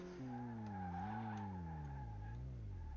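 Tires squeal in a long, wavering skid as a car brakes hard in Car Mechanic Simulator 18, the pitch sliding down and up over about three seconds, loud and close with no talking.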